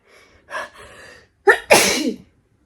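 A woman sneezes twice in quick succession. Each sneeze is close and loud, the second sharper and longer, with a soft intake of breath before each.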